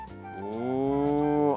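A single long cow moo, low and droning, swelling slightly in pitch and loudness as it holds for over a second, close and clear with no other sounds.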